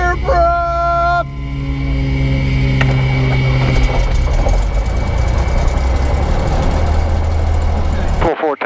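A Cessna light airplane's propeller engine coughs to life and settles into a loud, steady idle close by, a strong continuous drone that holds for several seconds before cutting off abruptly at the end.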